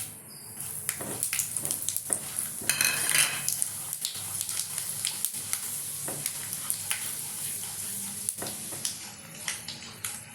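Dry red chillies and tempering spices sputter in hot oil for a curd chutney tempering, a soft continuous sizzle punctuated by light clinks and scrapes of a spoon against the pan, with no talking.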